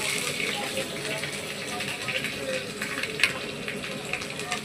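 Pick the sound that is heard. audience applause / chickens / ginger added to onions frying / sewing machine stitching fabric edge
ginger added to onions frying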